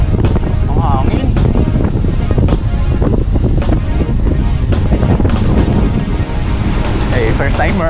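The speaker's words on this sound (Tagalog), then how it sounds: "Ang hangin." Strong wind blows steadily at the Taal lakeside in Wawa, Tanauan, roaring and buffeting the microphone loudly throughout, with voices speaking faintly beneath the gusts.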